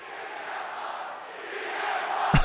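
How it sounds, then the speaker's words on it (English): An arena wrestling crowd in Chicago chants for CM Punk at a WWE Christmas show, a steady distant roar of massed voices that swells slightly toward the end, capped by a brief sharp thump. "They just do not stop chanting CM Punk"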